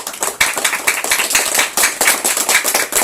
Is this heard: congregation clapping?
yes